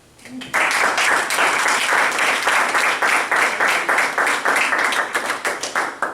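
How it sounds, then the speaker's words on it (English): A school board meeting audience applauds its board members, steady dense clapping that starts abruptly and holds loud for about six seconds before thinning slightly at the end. "I think we all owe our board members a round of applause"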